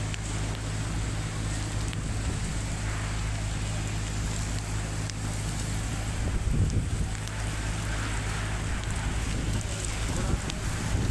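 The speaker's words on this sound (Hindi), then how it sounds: "बारिश बरस रही है, तेज़ हवा चल रही है" Steady roar of strong wind with rain pouring down under dark storm clouds in the evening, a continuous broadband wash with gusty low rumble throughout.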